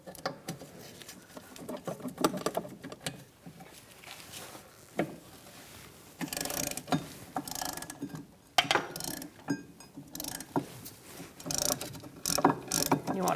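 A ratchet works loose a brake caliper bracket bolt on a 2004-2009 Mazda 3, giving close, quiet bursts of rapid clicking with small metallic knocks and handling noises.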